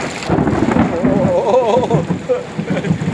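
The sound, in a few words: thunderstorm with thunder and rain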